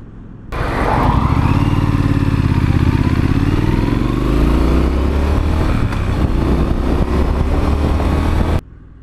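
A Triumph Street Scrambler motorcycle being ridden, its engine loud and close as the revs rise and settle through the gears, with a steady rumble under wind and road noise and no talking.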